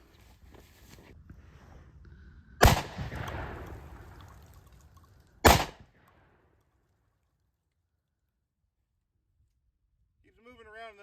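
Two sharp, loud shotgun blasts from a Beretta 1301 at an outdoor range, a few seconds apart, each with a brief decaying tail, over faint background noise; a voice comes in briefly at the very end.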